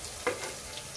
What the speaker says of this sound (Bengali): 1 টেবিল চামচের মতো রসুন কুচি দিয়ে একটু নেড়ে চেড়ে